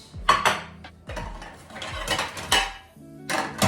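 Ceramic plates, a salad plate and a dinner plate among them, clink and clatter as they are lifted and stacked in a kitchen while tidying up, several distinct knocks and scrapes in bursts, close and moderately loud, with no talking.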